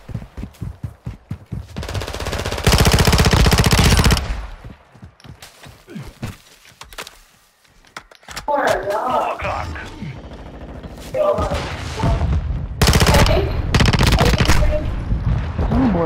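Bursts of automatic gunfire in the video game Call of Duty: Modern Warfare II, loud and close, coming in several long rattling volleys separated by quieter stretches of single shots and footsteps.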